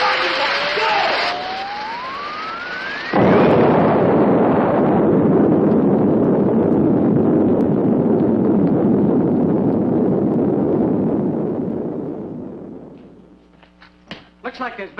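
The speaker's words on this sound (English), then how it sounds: "Looks like there's been some kind of an explosion over in Pelham Woods." An explosion in woods: a rising whine cuts into a massive, roaring blast that rumbles on for several seconds before dying away, followed by a few scattered clatters.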